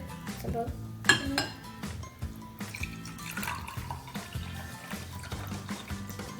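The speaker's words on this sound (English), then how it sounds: "he's gonna fill both glasses halfway with water" Water is poured into two drinking glasses during a children's hand-washing lesson, with faint trickling, clinks of glass and kitchen clatter, quiet and close, while people talk in the background.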